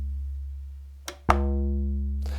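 A house or techno synth bassline without LFO modulation: a steady low drone holds throughout, broken by two sharp attacks that ring out with bright, decaying harmonics, heard alone with no voices.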